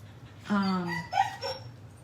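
Dogs in a home whine with a high, sustained whimper followed by short yips, moderately faint and mixed with nearby talking.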